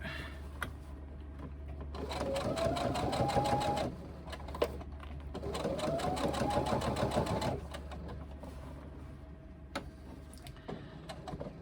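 Sewing machine stitching the thick side seams of a reversible tote bag: two sustained whirring runs of rapid needle strokes, each rising in speed, separated by a brief pause and followed by quiet clicks and handling.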